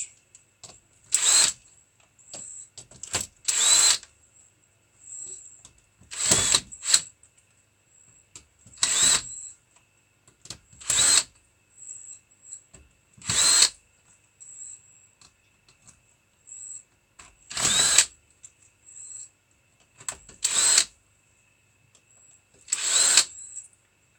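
A power drill backs screws out of scrap in about eleven short, loud whirring bursts separated by quiet gaps, with a faint steady high whine in the background.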